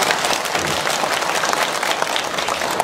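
Audience applause at a Thai tourism-promotion event, dense and steady clapping from a sizable crowd that holds at a loud level for about three seconds, with no voices standing out.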